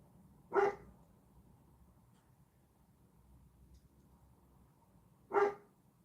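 A dog barks at people passing outside a house, two separate short barks several seconds apart, distant and faint over a quiet room.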